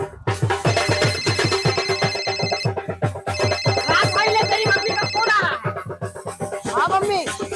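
A phone rings repeatedly while a call is being placed, a steady electronic ringback tone with regular pulses, loud and close, with a voice briefly heard over it.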